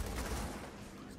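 Rapid gunfire from a Gears of War 4 Horde match fills the moment, a dense continuous burst of shots held at steady loudness throughout.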